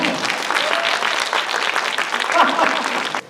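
Audience at a youth healing concert applauding, a loud, dense stretch of clapping with some voices underneath that cuts off abruptly near the end.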